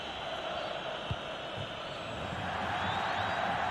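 Crowd roar from a packed stadium in an Italian football video game match involving Napoli near the closing moments, a steady, broad wash of cheering that swells slightly toward the end, with no talk over it.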